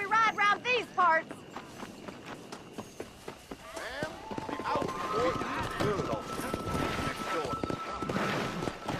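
Horses galloping in Red Dead Redemption, a quick run of hoof clip-clops followed by a busier, blended rush of galloping and movement, with a voice heard briefly at the start.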